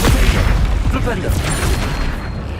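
Flipendo spell cast in Hogwarts Legacy, a loud, dense blast of booming, rumbling impact that stays thick and forceful throughout, with a voice shouting over the burst.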